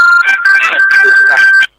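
A telephone ringtone plays loud and close as a bright, repeating melody over a steady tone, then cuts off abruptly.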